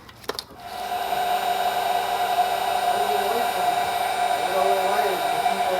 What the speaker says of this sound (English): But first, heat shrink.